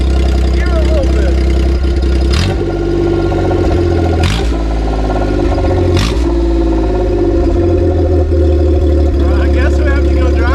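Idling Kei truck engine with audible valve ticking, a loud steady low rumble running the whole time, with people talking over it and a few sharp knocks.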